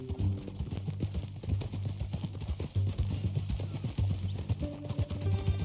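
Horse hooves clip-clop at a steady walking rhythm in Red Dead Redemption 2, close and continuous, with low tonal background hum beneath the hoofbeats.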